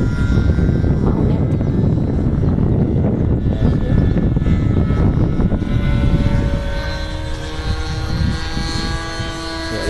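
Remote-control model F-16 jet making a pass, a loud roaring whine that builds then tapers as it goes by, with a faint voice in the background.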